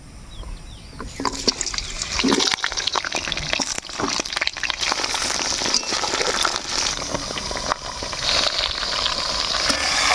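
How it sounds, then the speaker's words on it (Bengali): Sliced potol (pointed gourd) fries in oil in a wok for a chicken potol curry, a dense steady sizzle with crackles and a few bright spits, close and loud throughout with no talking. "প্রথমে পটলগুলা কিন্তু ভালো করে ভাজি নিব"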